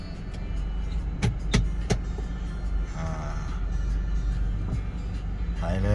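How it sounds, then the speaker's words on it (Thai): A 2002 Honda CR-V 2.0 E i-VTEC 4WD running on E85 pulls away in gear on an open road, a steady low engine drone from inside the cabin with a few sharp clicks early on and someone talking over it. "มาทดสอบการขับขี่กันครับผม เข้าเกียร์เลยนะครับ"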